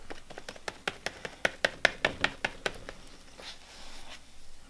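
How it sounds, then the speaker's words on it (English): A knife taps and scrapes against a container as it digs out a chunky hunk of acrylic paint mixture: a quick series of about a dozen sharp, close clicks, then a softer smeary scrape. "I'm gonna take my knife and I'm gonna scrape out a hunk of this right here"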